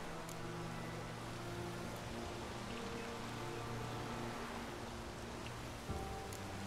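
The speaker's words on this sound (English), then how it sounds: "Oh, it's drizzling." A light drizzle falls in the video game The Witcher 3: Wild Hunt, giving a steady, soft hiss of rain under a low droning hum, with one small thud near the end.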